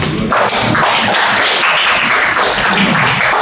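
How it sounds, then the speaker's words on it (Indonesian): Loud, dense applause from attendees at a women's management class session, continuous hand clapping with some heavier thumps, filling the space without talk. "Tepuk tangan dulu"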